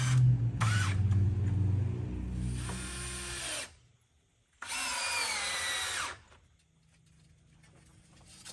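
A power drill driving screws into a pre-treated wooden trellis frame for a shade garden entrance: two loud bursts of whirring with rising pitch, separated by a short pause, no talk.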